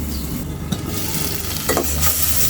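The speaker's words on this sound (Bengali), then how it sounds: "মশলাটা কষানো হয়ে গেছে এবার আমরা মাছগুলো দিয়ে দিই" Spice paste for an eel and Malabar spinach curry sizzles and is stirred in a pan, a steady close frying hiss with scraping strokes throughout.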